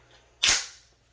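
A loaded magazine is snapped into a Noveske rifle, giving one sharp, close metallic click-thunk that decays quickly into quiet.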